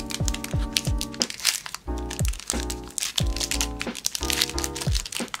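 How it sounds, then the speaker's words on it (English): Crinkly plastic wrappers on Pokémon card packs are handled and torn open up close, giving repeated loud crackling and crunching bursts in an uneven rhythm, with no talk. "I'm gonna try to open these very carefully because I don't wanna ruin the cards."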